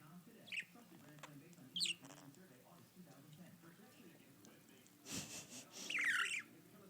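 A pet bird gives a few short, high chirps and a brief squawky burst near the end, close by, over quiet background talk.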